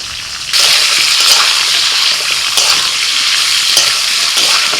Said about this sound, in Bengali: ডাটা আর আলু দিয়ে দিচ্ছি একবার নাড়াচাড়া করে নিয়ে দিয়ে দিচ্ছি গাজর